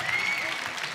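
Crowd at a bouldering competition breaking into loud, dense applause, a short burst of clapping with a voice faintly over it.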